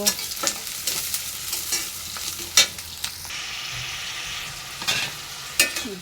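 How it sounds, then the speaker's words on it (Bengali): Cauliflower frying in oil in a pan, stirred with a spatula: a steady close sizzle broken by several sharp scraping strokes and clinks. "ফুলকপি ভাজি করব"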